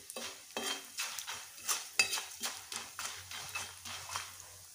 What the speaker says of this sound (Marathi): उडीद डाळ, परतून घ्यायचं व्यवस्थित